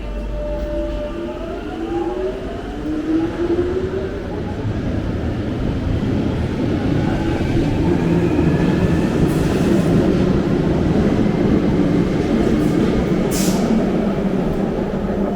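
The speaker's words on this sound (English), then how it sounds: "My train is coming in 2 minutes time." Train arriving at a station, a loud continuous rumble of wheels and cars rolling in, with a descending whine early on and a brief high squeal near the end.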